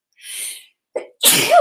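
A single sharp sneeze, close and loud, with a breathy lead-in and an explosive burst after a short pause, followed by silence.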